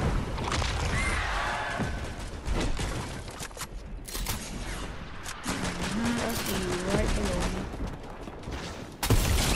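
Rapid volleys of gunfire in the video game Fortnite Chapter 2 Season 6, with dense bursts of shots and thuds across the whole stretch, a sharp closing blast, and a player's voice and game sounds running underneath.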